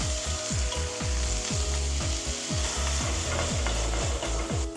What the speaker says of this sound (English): Now we're gonna add some of the starch liquid in there.